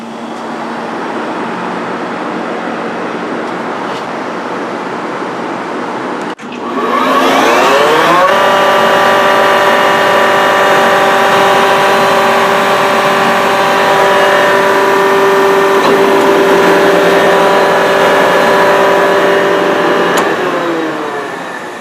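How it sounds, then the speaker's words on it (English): An industrial compressor starts up after a quieter stretch, its tonal whine climbing in pitch within a couple of seconds, then settles into a loud, steady mechanical drone with sustained harmonic hum before winding down near the end. No speech. "Come over here and start our compressor up."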